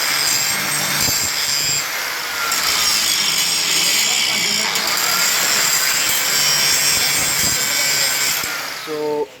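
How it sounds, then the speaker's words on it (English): Power grinder works a welded metal joint, a loud continuous high-pitched abrasive whine that holds steady for several seconds before cutting off abruptly at the end. "now it's time to do a grinding on it to give it a final touch finish"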